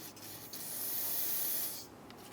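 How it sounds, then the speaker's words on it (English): Aerosol spray on a Honda Accord brake bleeder after bleeding the brake fluid: a steady close hiss rising and holding for about a second and a half, then cutting off. "Spray it down."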